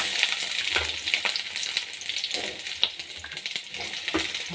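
Garlic and onion crackle in hot oil for a tomato gojju chutney, a dense close sizzle with irregular pops and occasional light metallic clinks of a spoon against the pan.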